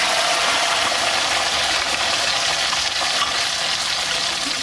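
Whole peeled shallots sizzling in hot oil left over from frying beef, a steady dense crackle and hiss that holds evenly throughout with no voices.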